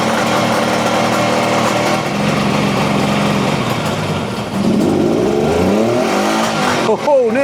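A Kawasaki KH250 two-stroke motorcycle engine revs loudly and steadily close by, its pitch rising and falling before sputtering near the end, not yet idling properly.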